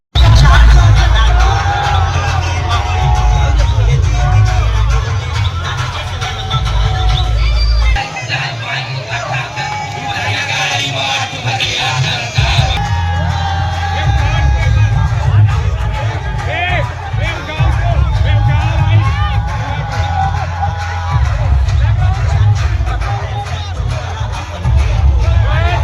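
A huge, dense crowd gathers outside Shyam Talkies cinema in Raipur on the opening day of the Chhattisgarhi film Kharun Paar, a loud, constant roar of chatter and shouting with voices heard throughout.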